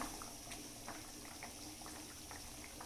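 Egg curry (muttai kuzhambu) bubbling in a pot on the stove, a steady soft simmer with faint scattered pops, quiet and close, with no talking.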